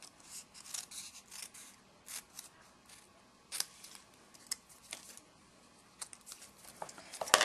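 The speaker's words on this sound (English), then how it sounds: "Yeah, I think what I'm going to do is just cut along here." Scissors snip through card for a Halloween slider card, a close series of short crisp cuts in an irregular rhythm, some louder than others, with quiet gaps between.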